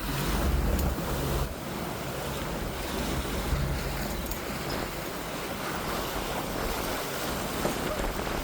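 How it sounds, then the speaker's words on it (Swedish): Steady wind roars and buffets the microphone as a sailboat heads out of Daniels Bay, the breeze blowing straight into the inlet entrance, with surf and water rushing beneath in a loud, continuous wash. "nu blåser det i princip rakt in i entrén här i inloppet"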